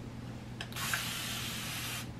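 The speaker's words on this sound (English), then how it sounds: "Look at that, one spray." A single sustained hiss of a continuous-spray bottle misting for over a second, close and steady, then stopping.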